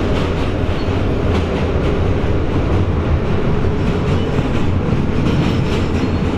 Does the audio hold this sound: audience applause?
no